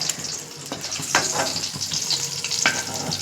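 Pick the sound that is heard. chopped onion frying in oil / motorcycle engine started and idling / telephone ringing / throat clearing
chopped onion frying in oil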